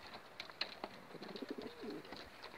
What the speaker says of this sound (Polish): Właśnie przyszedł obcy gołąb.